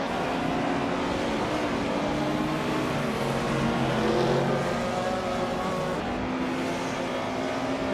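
A 1966 MG GT race car engine in a racing game, a loud, steady, close drone holding a constant pitch throughout with no voices.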